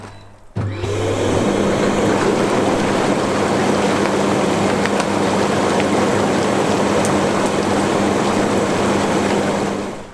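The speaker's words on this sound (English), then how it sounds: "So we've had the hot tub bubbles going for about 10 minutes now" Hot tub bubble jets kick on suddenly and run in the water, a loud, steady churning hiss with a constant motor hum underneath, lasting several seconds without letup before easing off at the end; no one speaks.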